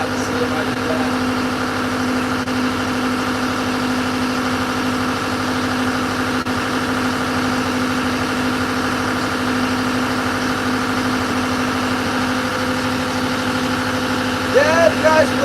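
A used replacement engine idles aboard a fishing boat, a steady close mechanical drone with a low hum that holds evenly throughout before a brief louder disturbance near the end.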